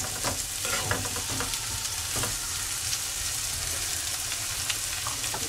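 Tomatoes stirred and sautéed in a pan after garlic, for a mung bean dish, giving a continuous close sizzle with repeated light scrapes and taps of the spoon, no talk.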